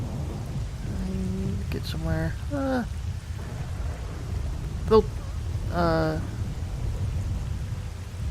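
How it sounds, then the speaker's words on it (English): Steady rain with low thunder rumble fills the background outside a window, a continuous wash under a man's speech and brief game sounds. "It's actually appropriate because it's actually raining outside my window."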